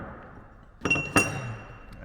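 Titanium 15 mm wheel spacers clink together as they are handled, giving a few sharp metallic taps close by, with a quiet pause between strikes.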